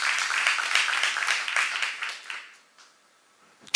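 Church congregation applauding during a sermon, a dense patter of clapping that fades out over a few seconds into near silence, with one sharp sound at the very end.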